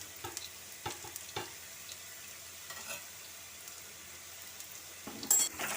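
Crushed chili fries in a pan for pumpkin leaf thoran, a faint sizzle with scattered spatula taps and scrapes and a louder clatter near the end, no voices.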